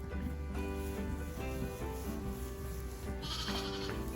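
Sheep bleat in a steady, wavering drone, fairly loud and close, with livestock shuffling and rustling around them.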